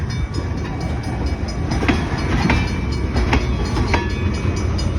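A train passes on the North Bridge line in Prince Albert, a continuous loud rumble with rhythmic wheel clacks over rail joints and occasional sharp metallic squeals.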